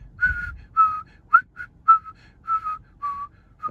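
A solo whistled tune, clear and melodic, in short phrases with brief pauses between notes, close and fairly loud with no talking.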